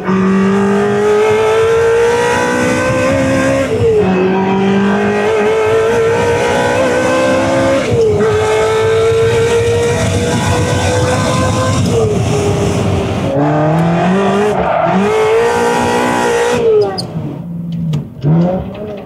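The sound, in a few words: Ferrari 360 driving on a race track, tires squealing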